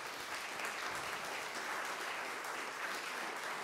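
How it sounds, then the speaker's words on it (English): A church congregation at a United Methodist worship service in St. Francis, Kansas, claps steadily and evenly, a dense, continuous wash of applause filling the room with no break. "Can we just give him a clap"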